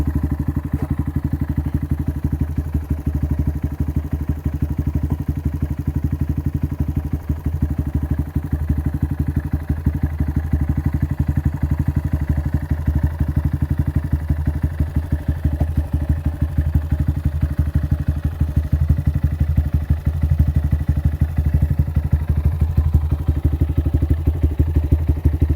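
Idling engine of a 2019 Honda Grom motorcycle with a Yoshimura RS-2 race exhaust, silencer insert removed: a close, loud, steady low burble with rapid clattering pulses, holding an even idle for about twenty-five seconds, no voices.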